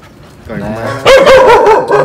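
A dog from an unfamiliar pack barks loudly and excitedly at close range, several sharp overlapping barks following a softer whine, while someone talks to it in Vietnamese.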